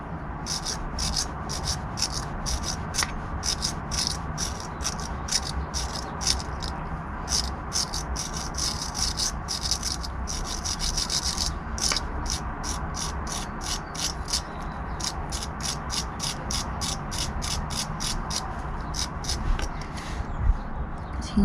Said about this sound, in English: Here we are, wire brush. Don't be afraid of it. Give it a good scrub.